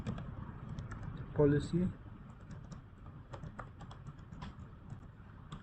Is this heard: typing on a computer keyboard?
yes